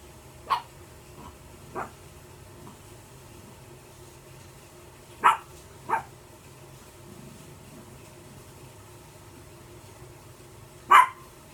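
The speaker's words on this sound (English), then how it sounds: "And if my dogs start barking, y'all just have to overlook them." Dogs barking indoors, five or six sharp separate barks spaced out over several seconds, with quiet gaps and a faint room hum in between.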